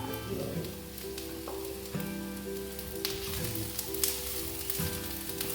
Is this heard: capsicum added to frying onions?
yes